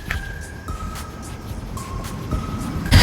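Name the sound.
2020 Honda Pilot LX tailgate being closed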